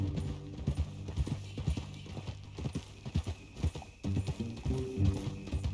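Horse hooves clip-clop in an uneven walking rhythm in the video game Red Dead Redemption 2, close and fairly loud, with a brief soft snort.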